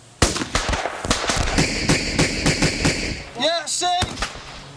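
Rifle fire from Royal Marines sharpshooters in Afghanistan: a rapid string of close, loud cracks, roughly a dozen shots in quick succession, with someone talking briefly near the end.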